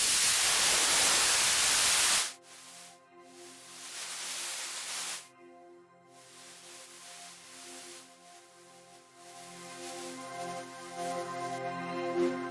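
Broadband white noise from the Moog MoogerFooger iOS effects app, a loud steady hiss for about two seconds, then cutting abruptly to filtered tonal drones and brief noise bursts.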